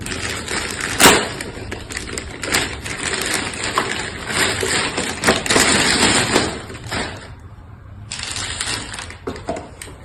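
Unboxing of an ECOVACS Deebot Y1 PRO robot vacuum, with close crinkling, rustling and clicking of packaging material, dense and continuous with brief thumps, stopping for a moment before resuming.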